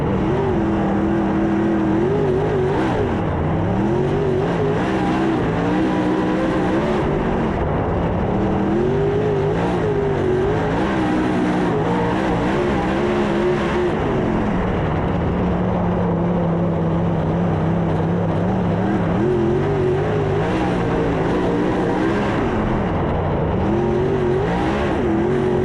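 Race cars roar around a dirt track at a Summer Nationals race at Highland. Several engines rise and fall together as they rev and pass, forming a loud, continuous snarl with no talking.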